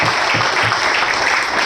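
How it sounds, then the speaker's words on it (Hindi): Audience applause for two mentors at a training session in Puri, a dense, steady burst of clapping from a crowd that fills the whole moment. "तो मैं चाहूंगा दोनों महागुरु के लिए चाहें पर जोरदार ताली हो सके"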